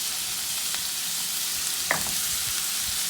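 Sofrito with garlic, cilantro and olives sizzles in a pan for plantain boats, a steady bright hiss with a brief clink near the middle.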